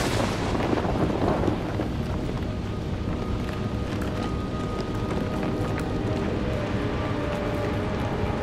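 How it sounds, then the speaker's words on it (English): Thunderstorm in the video game Outlast 2, with a dense, continuous wash of rain and rumble that swells into a louder burst early on, then stays steady and fairly subdued. "The storm's getting worse!"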